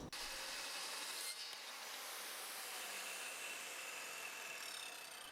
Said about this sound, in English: This was my first time handling this saw